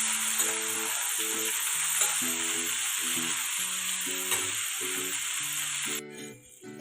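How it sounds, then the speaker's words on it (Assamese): Drumsticks (sajina) fry in a pan with a steady close sizzle and hiss, a lid set on the pan toward the end briefly changing the sound. "এতিয়া মই অকণমান সময় সিজিবলৈ চজিনাখিনি ঢাকনটো লগাই দিওঁ"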